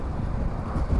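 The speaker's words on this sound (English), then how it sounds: "it's a very, very windy day today" Steady, loud wind roars and buffets across a motorcycle rider's microphone at highway speed on a very windy day, a dense low rumble that never lets up and has no talk over it.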